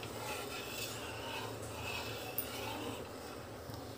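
Milk is stirred in a pan until it thickens for rusk barfi, a quiet continuous scraping rub of the spoon against the pan bottom with no talk.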